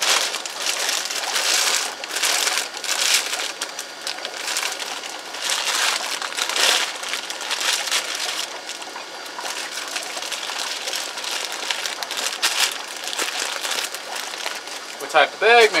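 Fish food pellets being poured from a big bag into a small bag, a continuous rushing, crinkling pour of dry pellets with plastic rustle, steady and close throughout.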